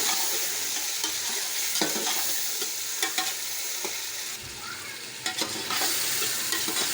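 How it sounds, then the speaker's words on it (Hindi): Chicken fries in ghee with tomato, garlic-ginger paste and green chili as it is stirred: a bright, close, continuous sizzle with scraping spoon strokes and short clinks, no speech. "अब हम इसमें टमाटर, लहसुन अदरक का पेस्ट और हरी मिर्च शामिल करते हैं। इसको अच्छे तरीके से मिक्स कर लें।"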